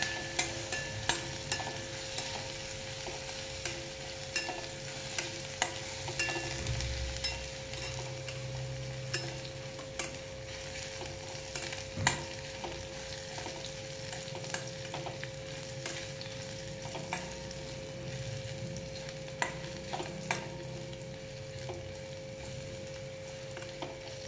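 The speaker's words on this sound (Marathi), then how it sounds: "लसूण जरा कलर चेंज होईपर्यंत आपण परतून घ्यायचं।" Garlic sautés in a pan for a Marathi-style green moong curry, with a steady close sizzle and occasional spoon scrapes and taps from stirring, continuous and alone without any voices.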